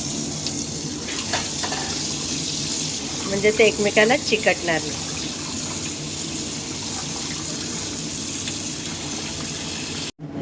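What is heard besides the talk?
water poured over boiled noodles in strainer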